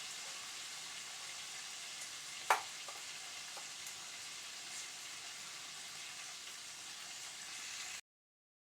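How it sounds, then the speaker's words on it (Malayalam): Vegetables fry in hot oil for chicken biryani, giving a faint, even sizzle and hiss throughout, broken once by a sharp utensil clink against the pan. "ഇതേപോലെ പച്ചക്കറികൾ ഓരോന്നും ഇട്ട് വഴറ്റിയെടുക്കാം"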